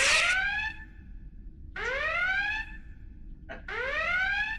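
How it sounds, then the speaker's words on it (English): A rising, whooping electronic alarm in a virtual Enterprise D starship recreation game sounds in three long swept bursts separated by a short blip, loud and clear over a low background hum, with no talking. "Who set the alarm?"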